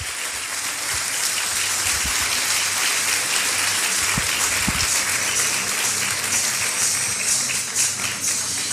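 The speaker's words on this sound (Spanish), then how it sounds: "Un aplauso fuerte, por favor" Dense, steady applause from a large audience fills a business opportunity meeting in Guadalajara, sustained at an even, loud level throughout with no pauses.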